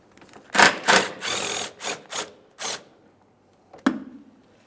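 A ratchet with a 12mm socket works on the mounting hardware of a washer fluid reservoir on a Mitsubishi Lancer, giving several short bursts of quick clicking separated by brief pauses, then one final sharp click.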